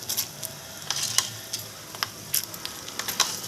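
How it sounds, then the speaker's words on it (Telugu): Mustard seeds, chana dal and urad dal fry in hot oil for a tempering, crackling in sharp, scattered pops and spits over a steady low sizzle. "ఇప్పుడు ఇవి వేగనిద్దామండి."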